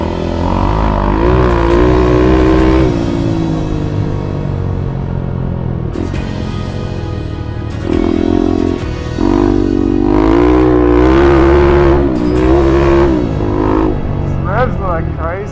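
A KTM 390 Adventure motorcycle is ridden, its steady engine rumble running underneath someone talking continuously close by.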